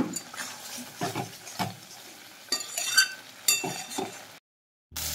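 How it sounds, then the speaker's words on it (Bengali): Chicken with cashew paste is sautéed and stirred in a pan, soft intermittent scraping strokes and a faint sizzle, quiet and close, cutting out briefly near the end. "এবার সমস্ত কিছু দিয়ে ভালো করে কষিয়ে নিচ্ছি।"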